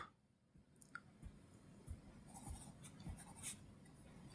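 Pen or pencil scratches on paper as an algebra formula for a cube difference is written out by hand, with soft, close, continuous strokes and small taps in a quiet room.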